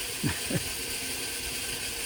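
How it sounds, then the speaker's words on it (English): Two quick mechanical clicks, like a motor-driven ratchet turning, close together near the start, then a steady low hum and outdoor background: an automatic fish feeder running beside a lake. "that is the sound of the automatic fish feeder feeding the fish in the lake here"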